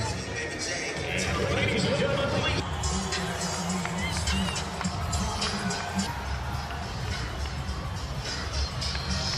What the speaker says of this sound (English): the crowd just erupted for this man right here, Lionel.